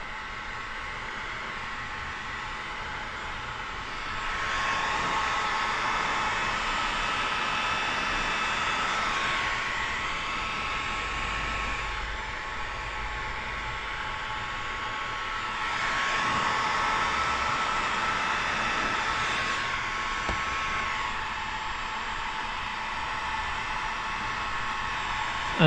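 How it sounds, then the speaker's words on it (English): Heat gun blowing steadily as it warms paint protection film on an Acura RDX bumper: a loud, continuous airy roar that swells and eases slightly as the gun moves, with no talk over it. "making sure that you're not pointing your heat gun at something you shouldn't be while you're pushing this stuff down"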